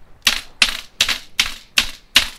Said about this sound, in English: Keyboard slaps are so annoying.